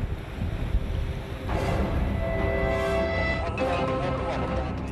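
Wind gusts roar across an open bay as the wind strengthens, building in strength with a rough, buffeting rush against the microphone.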